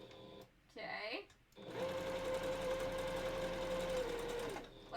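Sewing machine running a zigzag stitch on a wolf balaclava, a steady close whir for about three seconds after a few short bursts, with a faint whine through it.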